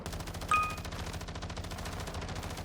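Automatic gunfire in the Call of Duty Warzone video game: a steady stream of rapid, evenly spaced shots, fairly faint and distant, with no talking over it.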